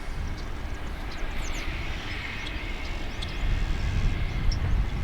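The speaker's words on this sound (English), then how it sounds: "The one behind Fort Smith will be American Flight 2266 from San Antonio, an A321" An American Airlines Airbus A321 airliner at DFW Airport produces a steady jet engine rumble at a distance, low and constant, swelling slightly toward the end, with a few faint high chirps over it and nobody speaking.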